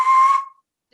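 A single short lip whistle, a clear steady tone held for under half a second before trailing off.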